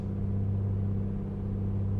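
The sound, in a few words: small aircraft piston engine running while leaning the mixture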